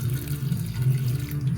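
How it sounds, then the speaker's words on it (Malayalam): Water pouring steadily into a pot of taro chunks seasoned with turmeric and salt, a close, continuous splashing stream with no talking. "പിന്നെ ആവശ്യത്തിന് വെള്ളം ഒഴിക്കാം."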